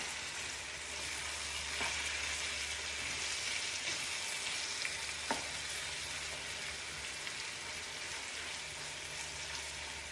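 Tomatoes sizzle quietly in a frying pan for Lebanese eggplant moussaka, a continuous soft frying hiss with a couple of faint spoon taps as they are mixed.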